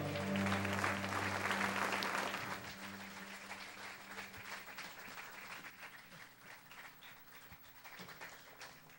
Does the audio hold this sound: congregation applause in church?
yes